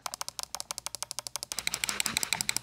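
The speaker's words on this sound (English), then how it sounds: "he got mouse click triggers" Rapid, evenly spaced clicks from mouse-click triggers on a PS5 game controller, crisp and close, speeding into a denser rattling run of clicks toward the end.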